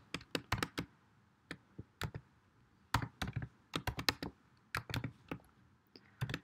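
Keys clack on a computer keyboard as a GraphQL query is typed, irregular bursts of close, crisp taps separated by brief pauses, quiet and alone.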